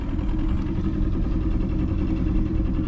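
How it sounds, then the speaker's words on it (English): A Glastron speed boat's engine idles steadily, a deep low rumbling throb with a regular pulsing beat, close and fairly loud, no voices over it. "She's idling actually really well."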